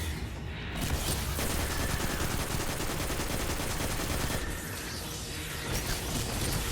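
Continuous rapid automatic gunfire from a high-power-level gun in the Destiny 2 Shadowkeep game, a loud dense stream of shots running almost the whole time with only brief dips.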